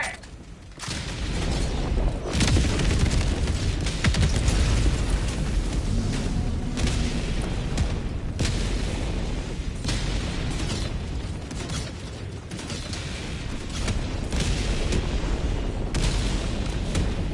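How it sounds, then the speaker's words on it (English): Orbital strike explosions in Helldivers 2, a string of heavy booms and blasts rolling one after another, loud and close, with a dense rumbling wash continuing between impacts. "Requesting orbital strike."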